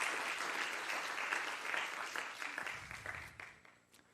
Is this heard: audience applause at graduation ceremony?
yes